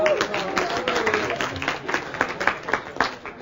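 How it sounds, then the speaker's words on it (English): An audience at a motivational talk breaks into a round of applause, with clustered claps rising and falling throughout and voices murmuring underneath. "Give yourselves a round of applause."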